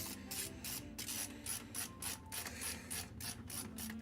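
A part being screwed into the bottom of a PC case during an Intel i9-14900K build, a quiet repeated ratcheting click of a driver turning in short regular strokes, close and alone.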